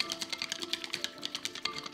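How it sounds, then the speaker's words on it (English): Eggs whisked with lukewarm chicken stock in a bowl for Chinese steamed eggs with tofu: rapid, steady, rhythmic clicking strokes, close and fairly soft, with no talking. "Whisk."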